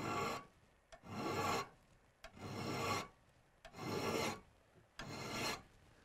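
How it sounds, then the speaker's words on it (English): A hand file rasps along the edge of an ice tool or crampon in five slow, even strokes, each a close, loud scraping push separated by brief pauses with small clicks as the file resets. "Notice I'm just filing in one direction."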